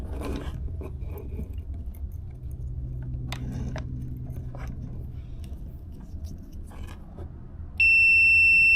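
A multimeter beeps for a continuity test on the brown and yellow wire of a 2018 Ford F150 power tailgate harness. It gives one sustained, loud tone near the end after scraping, clicking and fiddling noises.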